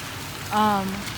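Rain falls in a steady, close hiss while someone walks outdoors on a long walk through wet streets; a brief tonal sound rises over the patter midway, then fades back into the even downpour.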